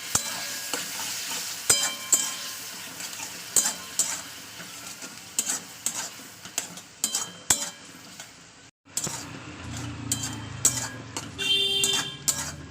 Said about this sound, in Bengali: তো ভালো করে এবার আমি এটাকে কষিয়ে নেবো,